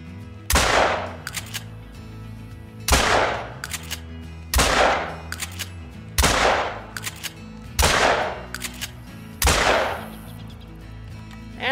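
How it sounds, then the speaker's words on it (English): Six loud, evenly spaced blasts from a 12 gauge Cacciatore shotgun in the hunting game Call of the Wild, each sharp report followed by a fading boom and a short pause, with no talking. "I unloaded the entire barrel."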